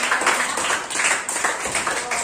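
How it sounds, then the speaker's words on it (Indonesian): A classroom group claps together after a lesson on personal letters, a fairly soft, steady patter of hands lasting a couple of seconds with no voices over it. "Tepuk tangan dulu untuk kita semua."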